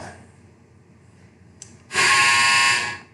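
A clothes dryer's buzzer sounds once, a loud, steady electronic tone held for about a second after a brief faint beep, cutting through a quiet room.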